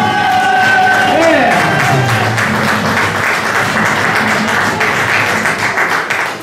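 A crowd cheers and applauds loudly and steadily at an award ceremony for a rally slalom in Gambarie, with whoops and a dense patter of clapping that holds throughout, a voice briefly heard over it.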